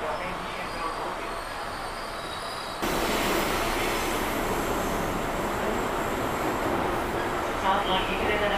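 Riding aboard a KRL commuter train nearing Manggarai transit station, a quieter cabin hum gives way to a loud, continuous rumble of wheels on track, with squealing rail noise and a brief announcement voice.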